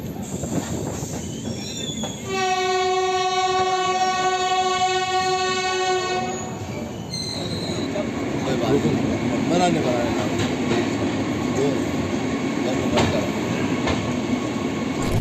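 A train travelling near Haridwar in India sounds a long, loud, steady horn blast, followed by a continuous rumble of rolling wheels and carriage rattle that carries on to the end.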